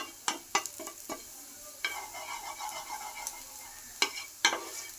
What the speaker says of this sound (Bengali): এই দেখো আমার ছেলে অমলেট করছে। এটা ভাজা হচ্ছে